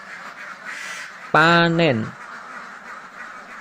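Ducks quack loudly on an intensive duck farm, a single sharp harmonic burst of about half a second rising out of steady background flock chatter and a low hum, with a brief spoken word nearby.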